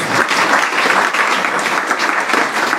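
Steady audience applause at a religious discourse, many hands clapping together in a dense, continuous wash that stays loud and even throughout without voices.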